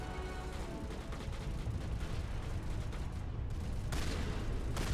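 Turrets firing in Mass Effect Legendary Edition, a dense, continuous barrage of booming shots and blasts that stays loud and steady throughout with no pauses.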